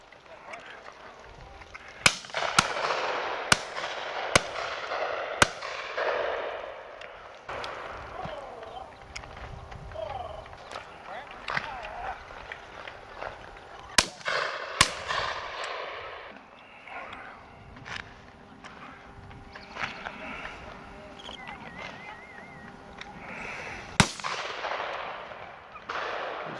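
Shotgun shots ring out on a December pheasant and partridge shoot: a quick run of sharp cracks early on, then isolated reports later, over outdoor ambience with people talking throughout.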